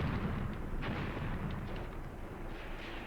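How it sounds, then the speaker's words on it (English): Mortars firing at an immobilized tank in Graviteam Tactics, heard as a steady rumble of dull, booming low thuds with occasional sharper distant cracks, continuous for a few seconds without talk. "our mortars are shooting at it now"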